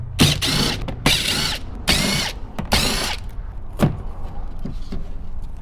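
A hand ratchet clicks out the 6mm bolts holding a factory speaker in a Ram truck front door, four quick rasping bursts of pawl clicks followed by a few fainter taps, close and dry.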